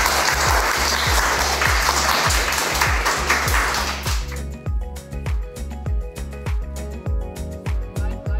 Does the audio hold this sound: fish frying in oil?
no